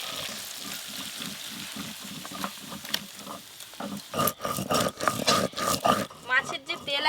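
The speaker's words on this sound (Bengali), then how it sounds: "মাছের তেল ভাজা হয়ে গেছে" Leftover fish oil sizzles in a pan, a rhythmic crackling frying sound that gives way to louder bursts, with a person talking over much of it.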